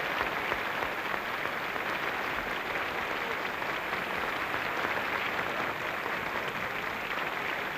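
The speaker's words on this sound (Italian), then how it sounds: "A tutte queste nazioni noi di Sanremo in questo momento vogliamo mandare un saluto con un bel applauso" Steady, dense applause from a large audience at the 1979 Sanremo Festival final, a continuous even roar of clapping sustained throughout with no talk over it.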